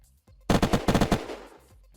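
Rapid burst of gunfire from the survival game Unturned, about eight sharp, evenly spaced shots in quick succession, loud and close, framed by near silence before and after.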